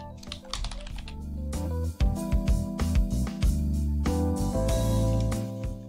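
A computer keyboard typed on while naming a saved filter in CRM software, rapid close key clicks in quick bursts with brief pauses, no talking.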